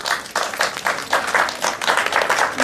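An audience claps for students at a French middle school cultural event, a dense, fairly loud burst of many hands applauding continuously without a break.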